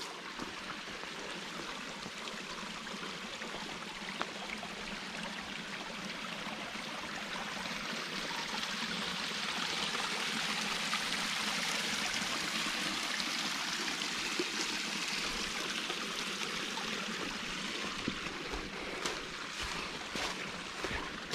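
Creek water trickling and rushing steadily beneath a footbridge on the Conestoga Trail in Pennsylvania, a soft continuous hiss that swells slightly midway, with no voices.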